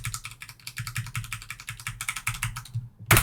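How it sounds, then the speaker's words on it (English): Rapid, irregular typing on a computer keyboard, a steady stream of close, crisp key clicks ending with a louder keystroke. "they type I to go into insert mode"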